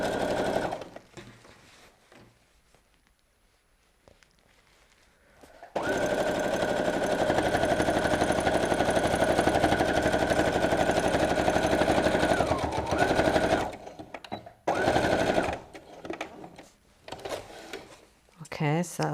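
A sewing machine stitching a BBQ utensil roll, a close, fast, steady needle rattle running for several seconds, preceded and followed by quieter handling and short bursts of stitching.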